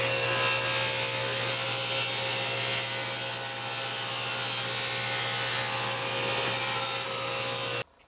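A saw cuts steadily through a sheet of half-inch plywood in a workshop, one continuous loud whining rip lasting several seconds before stopping abruptly.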